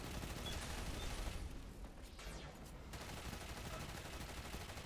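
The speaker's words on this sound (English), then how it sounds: "Submachine gun's not the best at range, I'll be completely honest." Submachine gun fire in Destiny 2 during a Legendary Lost Sector fight at Grove of Ulan-Tan: dense, continuous rattling gunfire under constant battle noise, steady and fairly loud throughout with a brief thinning midway.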